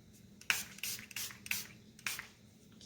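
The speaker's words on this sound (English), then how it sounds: "I'm going to take my sprayer and" A handheld spray bottle mists water onto an acrylic painting in several quick, soft pumping bursts, close and fairly faint, spaced about half a second apart.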